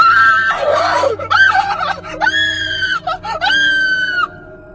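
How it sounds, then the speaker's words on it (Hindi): Crying and screaming in a forest, shrill wailing cries and sobs rising and breaking in several bursts, loud and close, alone without talk. "रोने और चीखने की आवाजें आने लगीं।"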